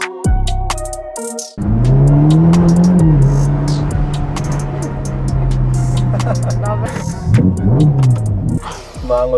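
A car driving and revving hard, its engine note rising and holding loud and close with bursts of throttle and road noise; a voice speaks briefly.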